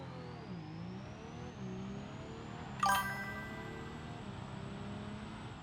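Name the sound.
automatic diesel vehicle engine in BeamNG video game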